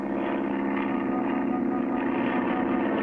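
The engine of a cartoon airplane from a 1959 animated series drones at takeoff, a loud, continuous buzzing hum that holds steady for the whole stretch, with no voices.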